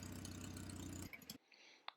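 A car engine fitted with a custom exhaust idles at a steady, even burble for about a second, then cuts off abruptly, leaving near silence with a faint click.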